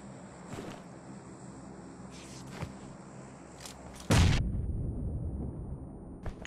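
Gunfire in the mobile battle-royale game PUBG Mobile: scattered sharp shots crack over a steady game background, then one heavy, close blast rings out and slowly fades.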